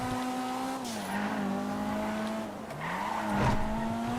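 Video game car engine with a steady droning tone that dips and rises in pitch, under tire squeal and skidding noises over about four seconds, with no talk.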